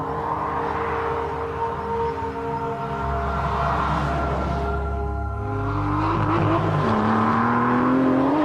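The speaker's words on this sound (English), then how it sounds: "got an Aston Martin Vantage with a V12 engine." An Aston Martin Vantage with a V12 engine runs loud and close, a steady engine drone with tones that shift in pitch as it revs, accompanied by a brief tire squeal.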